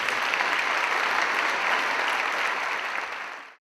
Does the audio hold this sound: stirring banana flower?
no